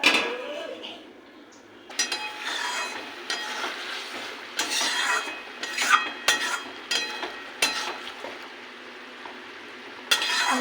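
Lid set onto a pot of bubbling fish curry on the stove, with metal clinks and knocks among steady simmering and sizzling, close and moderate in level, with a few louder clatters.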